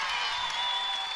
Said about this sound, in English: This St. John's crowd is loud.